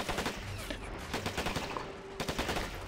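Infantry combat in the war strategy game Men of War Assault Squad 2, with bursts of machine-gun and rifle fire crackling in quick volleys over a noisy battlefield background.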